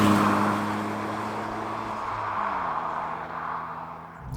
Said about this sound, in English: how does this manage the clutch getting off the line?